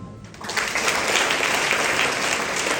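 An audience at a ceremony honouring SSLC toppers in Raichur applauds the parents: a dense, loud wash of many hands clapping that swells quickly after a brief quieter start and holds steady.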